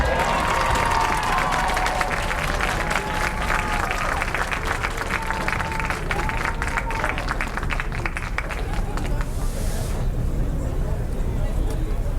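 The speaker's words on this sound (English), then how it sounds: "give a big round of applause to this entire court" A large crowd at a high school football game applauds steadily, the clapping dense and continuous, with cheering voices and an announcer's voice heard over it.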